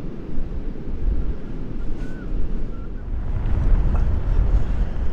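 Strong wind batters a deserted, stormy Blackpool beach, a deep buffeting rumble across the microphone that swells into heavier gusts toward the end, with the surf blending into the roar and no voices.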